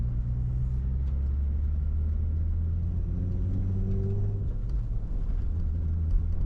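A manual car's engine drones steadily while driving, a low continuous rumble with a slight rising tone partway through, heard from inside the car with no talk.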